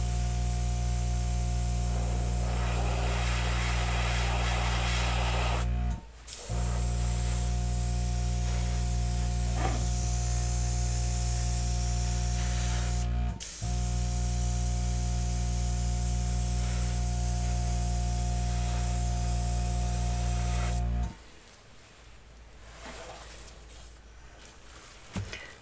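An airbrush sprays paint in a steady hiss for about twenty seconds, broken by two brief pauses, then stops, leaving faint background noise.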